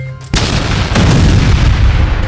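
A huge explosion in an animated cartoon erupts suddenly and stays loud, a dense roaring boom that fills the sound and rumbles on without fading.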